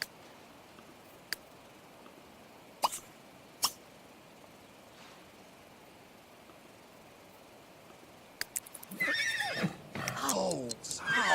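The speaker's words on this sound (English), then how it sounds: "Seems like this horse does not want to talk to us" In The Sims 3, a horse in a medieval kingdom setting gives a few faint clicks and taps, then bursts into a loud, shaky whinny and neigh near the end.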